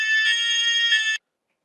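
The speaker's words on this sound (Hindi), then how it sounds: "बावरी का फोन?" A phone rings once with a bright electronic tone lasting about a second before cutting off abruptly into silence.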